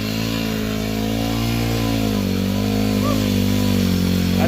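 An enduro motorcycle on a muddy trail in Palawan revs steadily with a loud, continuous buzzing engine drone that rises slightly in pitch partway through.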